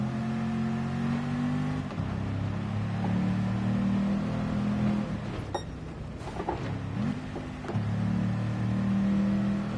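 Race car engine in Gran Turismo 7 during a practice round, revving hard through steady climbing drones with quick gear-change dips, a continuous mechanical whine with no talk.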